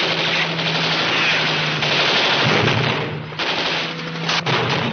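Sustained gunfire aimed at an aircraft, loud dense bursts of rapid shots filling the scene alongside a steady engine drone, easing briefly near the end before a final sharp report.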